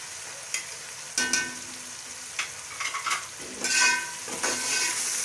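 Mutton with spices being fried and stirred in a pot, an ongoing sizzle broken by repeated scraping and clanking of a spoon against the metal, close and without talk.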